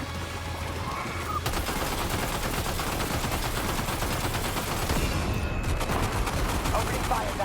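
Rapid gunfire in the Death Stranding 2 video game, with dense bursts of shots crackling steadily and loudly for several seconds, and a voice faintly audible underneath.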